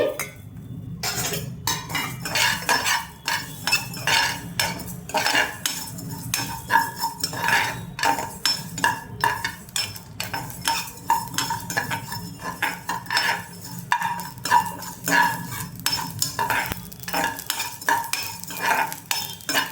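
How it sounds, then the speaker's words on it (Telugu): Spices for a fish curry are dry-roasted in a pan, with a spoon or spatula scraping and clinking against the metal in an uneven rhythm and a soft sizzle underneath, close and continuous with no speech. "మిగతావన్నీ కూడా వేసి వేయించేసుకుందాం ఒకసారి"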